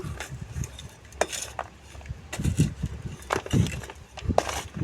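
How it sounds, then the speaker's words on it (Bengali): A hand tool working fertilizer and neem cake into potting soil, giving irregular gritty scrapes and dull crunching bursts in short clusters, close up with no talking. "এটা দিয়ে মাটিটাকে ভালো করে সারগুলো মিশিয়ে দেব"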